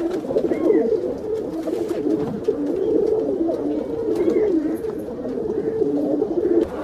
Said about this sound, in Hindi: अमोल भाई कौन से कबूतर है?